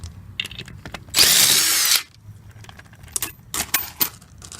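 A loud power drill whirs in one short burst of under a second, removing wheel nuts from a 1965 Ford Mustang, followed by metallic clinks and rattles of small parts being handled.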